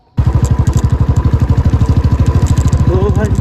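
A motorcycle engine catches abruptly and settles into a loud, close, rapid thumping idle that stays steady throughout.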